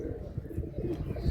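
A Madrasi high-flying pigeon coos softly with low, throaty, rolling murmurs, close by and continuous through a short stretch, with faint background noise.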